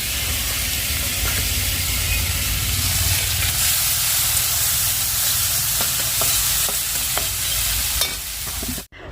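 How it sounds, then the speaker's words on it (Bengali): Sliced onion and chili fry in hot oil in a wok, a loud, close, continuous sizzle and hiss with faint stirring clicks near the end before it cuts off. "কড়াইয়ে তেল গরম করে পেঁয়াজ আর লঙ্কা কেটে দিয়ে একটু ভেজে নিয়ে"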